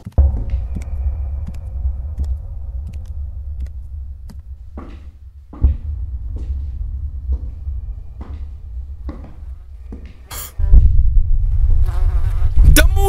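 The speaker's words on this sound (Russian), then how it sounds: "Мухи сраные!" Buzzing flies in an indie horror video game drone loudly and close over a low throbbing rumble, with scattered clicks and knocks, swelling heavier near the end, with no speech.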